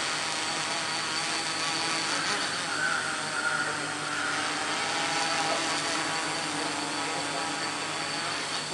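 Small quadcopter drone motors whirring in a steady, continuous hum during a flight demonstration, holding level and fairly close throughout with slight pitch shifts as it manoeuvres.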